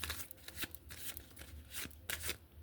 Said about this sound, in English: I'm going to pull 2 more cards from this deck.